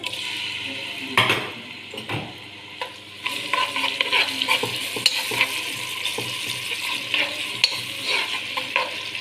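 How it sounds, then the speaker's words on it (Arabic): A large onion is dropped into hot oil in a pot for cooking rice, crackling and sizzling close by while a utensil stirs and scrapes the pan. "أنا حطيت زيت، وهنزل بالبصل، معايا بصلايه كبيره"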